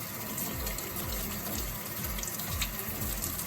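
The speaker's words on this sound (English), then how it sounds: "I just put soap on the sponge and I like avoid the blade and just wash the blade and the handle, rinse it," A knife rinsed under a running kitchen tap, with a steady, fairly soft rush of water spattering into a sink, continuous throughout and with no talking.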